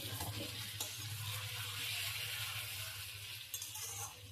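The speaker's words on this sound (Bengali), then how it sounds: "এখানে পেঁয়াজ ভাজা হচ্ছে, সঙ্গে আলুগুলো ভাজা হচ্ছে" Onions and potatoes fry in a pan, a steady bright sizzle with a spatula scraping and stirring through it, plus a couple of light metallic clinks, close and without talk.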